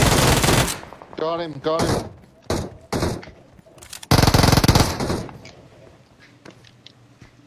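Gunfire in the video game Fortnite comes as loud, sharp bursts and single shots spread over several seconds, with a long rattling burst in the middle, while players talk over the action.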